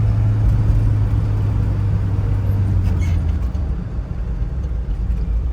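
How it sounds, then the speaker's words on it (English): A 1967 Chevrolet K10 Suburban truck with replaced steering components drives along, its engine a steady, loud low rumble that stays constant throughout with slight road noise and no voices. "Just a really fun truck to drive."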